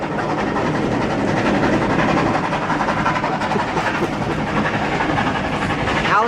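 A moving train rolls steadily along the rails with a continuous, loud rumble and rhythmic clickety-clack of wagons, close by and unbroken for the whole stretch, with no talk over it.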